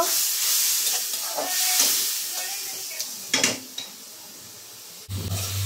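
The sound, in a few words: stirring fish curry sizzling in pan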